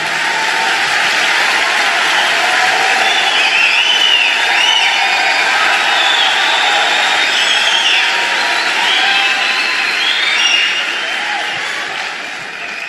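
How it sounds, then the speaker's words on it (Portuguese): A church congregation applauding loudly during a sermon, a dense, sustained roar of clapping and cheering with scattered whoops that carries on evenly for many seconds before easing slightly. "Pode aplaudir bem forte."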